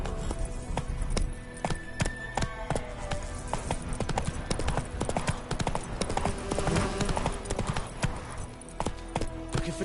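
Horse hooves gallop in The Witcher 3 Wild Hunt next-gen on PS5, a fast, loud, continuous clip-clop rhythm running throughout with game ambience beneath.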